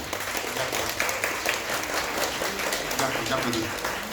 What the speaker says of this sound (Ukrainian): Оплески Максиму Осадчому.